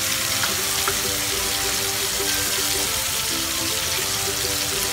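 Tomatoes sautéing in a pan while making spicy misal, a steady broadband sizzle running throughout at an even level with faint tonal hum and clinks underneath, no voices.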